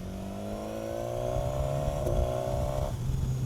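A 2016 BMW S1000 XR motorcycle engine in road mode, full 160 hp, pulls steadily while riding, its droning note rising in pitch under constant wind rush, then dropping abruptly near the end as the clutch is pulled.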